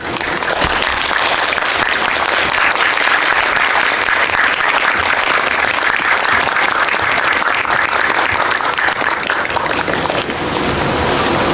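Cinema audience welcomes a film team onto the stage with loud, continuous applause, a thick wash of many hands clapping steadily with no break.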